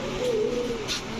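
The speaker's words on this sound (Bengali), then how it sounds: "সবগুলা নর কবুতর" A male racing or fancy pigeon gives a soft, low coo close by, one drawn-out rolling call heard alone.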